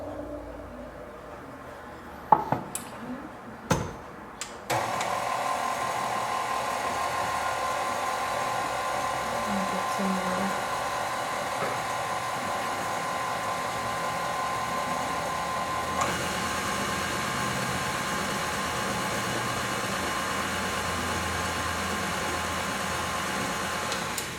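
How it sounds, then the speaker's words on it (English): Electric hand mixer whisking flour and egg whites into batter for a tres leches cake, a steady close whirring drone running continuously after a few brief clunks at the start. "A little bit of flour, a little egg whites, and let's go ahead and get that all whisked in."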